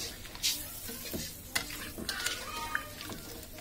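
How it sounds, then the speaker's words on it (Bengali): Broiler chicken curry sizzles quietly in a pan while a spoon stirs it, giving occasional scrapes and clinks against the metal. "এখন আমি এটাকে নাড়াচাড়া করে দিই।"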